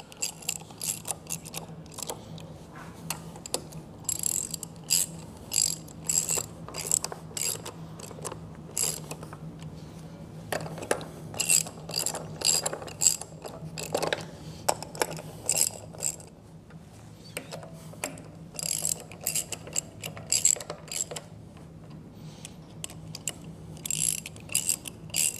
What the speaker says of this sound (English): now we can tighten them down just with a standard ratchet